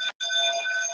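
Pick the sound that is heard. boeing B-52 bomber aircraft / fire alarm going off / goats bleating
fire alarm going off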